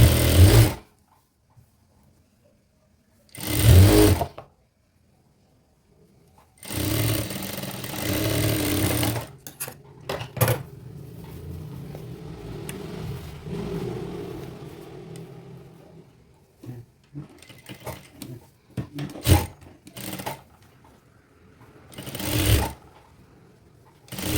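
Sewing machine stitching a shirt collar in a tailoring session, heard as several separate bursts of loud mechanical whirring, some short and some running for a few seconds, with quiet gaps and soft handling noise in between.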